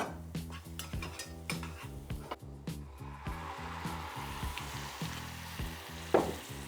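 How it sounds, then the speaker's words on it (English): Shallots frying in a touch of oil in a pan, a steady close sizzle running throughout with repeated stirring and scraping against the pan. "Pan on, touch of oil in the pan, just to get these shallots working."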